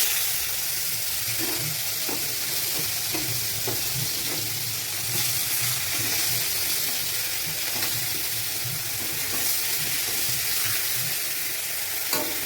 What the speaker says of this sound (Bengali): এবার আমি দিয়ে দেব গ্রেট করা পেঁয়াজ।